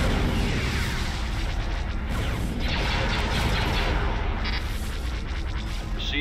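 Starfighter weapons, including Y-wing fire, blast in a space combat video game: a continuous, loud barrage of crashing booms and bursts layered over rumbling noise.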